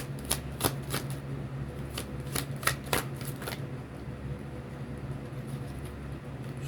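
Tarot cards are shuffled in a quiet room, a quick run of crisp riffling snaps over the first few seconds that fades into soft, low background hum.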